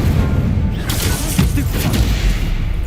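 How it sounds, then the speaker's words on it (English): Incendio fire spell cast in Hogwarts Legacy, a steady loud roar of game combat with bursts and booms throughout, under music or effects, with no clear gaps. "Incendio."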